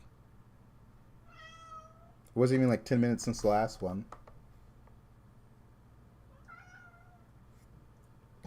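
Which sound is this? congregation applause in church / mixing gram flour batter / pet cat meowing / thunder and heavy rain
pet cat meowing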